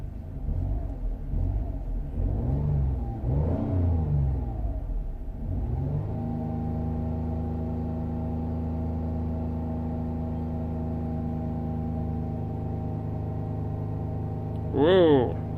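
A 2007 Jaguar X-Type 3.0 V6 with misfire codes revs unevenly at first, then holds a steady droning rumble near 3000 rpm, ending with a short sharp rising whine.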